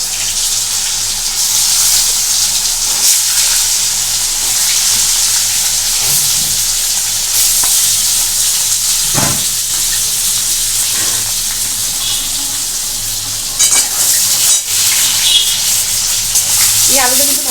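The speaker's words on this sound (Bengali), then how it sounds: "এই আলুটা কিন্তু ভালো করে ভাজতে হবে।" Boiled potatoes frying in a hot pan after a dried red chili tempering, giving a steady, loud sizzle throughout with a few scrapes and clinks of stirring.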